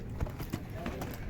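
Hooves of a large horse clip-clopping at a horse market in Bishkek, a few quick irregular hoof knocks over a dense crowd murmur with voices throughout.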